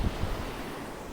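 Ocean waves surge up toward the dunes during Hurricane Idalia, a loud, close rush of surf mixed with heavy wind buffeting, with no speech.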